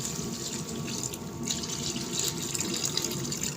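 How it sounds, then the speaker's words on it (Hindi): Water poured into a cooking pot of fried potatoes and toasted spices for potato rice, a steady continuous splashing and gushing stream that stays even and close throughout, with no voices. "ये देखें, साथ इसमें पानी ऐड कर देते हैं।"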